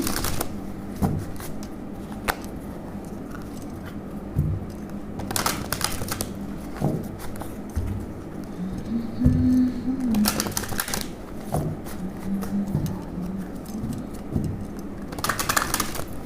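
Tarot deck shuffled by hand at close range, repeated crisp riffling bursts of cards with softer sliding and tapping between, and no talk.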